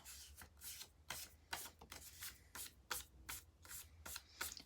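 Fingers rubbing repositionable adhesive off a small punched paper piece, a quiet series of close, scratchy rubbing strokes repeating at a steady pace.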